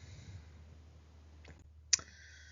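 A single sharp computer mouse click on a laptop sounds near the end, close and crisp against a faint hum.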